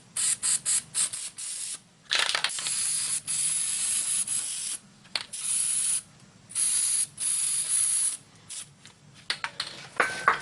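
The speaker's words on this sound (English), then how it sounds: "I'm just going to put a little spray grease on the back of the hub" An aerosol can of spray grease hisses in a series of short and longer bursts onto the back of a new front wheel hub bearing on a 2001 Buick Century, close and loud with brief pauses between sprays.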